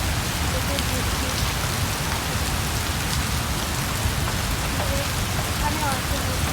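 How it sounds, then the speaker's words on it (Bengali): Heavy rain pours steadily outdoors near a temple, a dense, even hiss of drops striking surfaces that stays loud and unbroken throughout. "এখানেও আছে বৃষ্টি চলছে"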